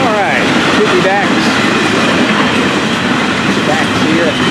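An FEC 101 train rumbles past close by at night, loud and steady, with rattling wheels, metallic squeals and a voice faintly underneath.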